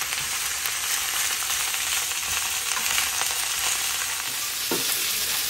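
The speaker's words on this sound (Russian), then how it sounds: "Овощи нам нужно слегка обжарить, минутки две примерно." Carrot, cabbage and onion fry together in a pan with a steady, bright sizzle and crackle, close and continuous, with a few stirring scrapes and no talking.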